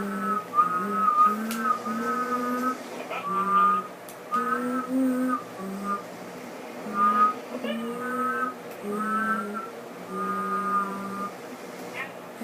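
A person whistles a steady repeating tune in short phrases with brief pauses, close and moderately loud, over faint game sounds while playing GTA 5.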